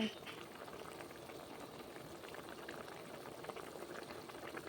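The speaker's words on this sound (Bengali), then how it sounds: "হালকা তরকারিটা ফুটিয়ে নেব" Curry simmering in a cooking pot, a faint continuous bubbling and gentle sizzle at low level with no clear pauses.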